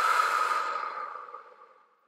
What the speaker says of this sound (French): Nous allons d'abord expirer tout l'air de notre corps par la bouche en soufflant